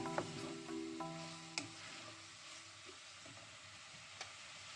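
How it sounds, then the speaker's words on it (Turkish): Boiled peas are gently stirred into a minced-meat pastry filling in a pan, giving soft, quiet scraping and squishing with a faint sizzle and a few light clicks, no voices. "Ezmeden karıştırıyorum."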